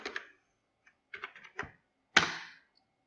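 Typing VBA code on a computer keyboard, close and quiet: a couple of keystrokes, a pause, a short cluster of taps, then one louder key strike trailing off into silence.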